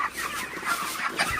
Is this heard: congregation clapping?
no